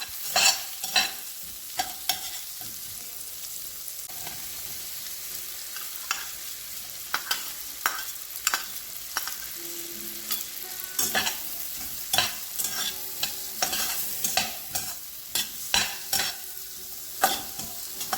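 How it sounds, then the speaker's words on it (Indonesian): Onion being stir-fried in a pan, with a soft continuous sizzle under repeated scraping and tapping of a spatula against the pan. "Bawang bombaynya cukup dioseng-oseng sebentar aja sampai agak layu."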